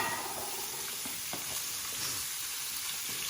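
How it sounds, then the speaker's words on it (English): Beef filet searing in olive oil in a hot pan, a steady, close, broadband sizzle with a few faint pops and no talking. "We are just searing it to lock in the juices."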